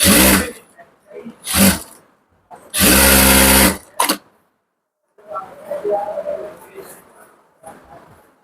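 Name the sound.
sewing machine stitching pant belt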